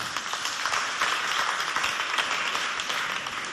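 An audience at a school event in Chad applauds to welcome a student onstage, a dense, continuous burst of clapping heard at a fair distance with no voices over it.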